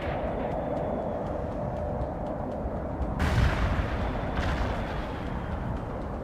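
Artillery barrage in the World in Conflict video game: dense, rumbling booms rolling continuously, with a louder burst of heavy impacts midway, all heard without speech.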